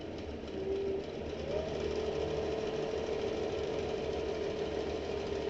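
A sewing machine runs steadily while stitching together the gussets of a backpack, a continuous mechanical hum with rhythmic stitching that stays at an even, close level throughout.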